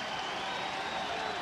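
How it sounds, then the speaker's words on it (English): A stadium crowd roars and claps at Paulson Stadium in Georgia Southern's 2006 college football game as the Eagles take the field, a dense, steady wash of cheering that stays constant throughout. "The Eagles are taking the field to the roar of the crowd"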